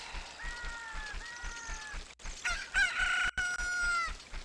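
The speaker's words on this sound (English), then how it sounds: "Cock-a-doodle-doo." A rooster from Ocarina of Time crows twice in succession, with drawn-out, bright, tonal calls over a repeating low rhythmic game background, the second crow louder and more strident.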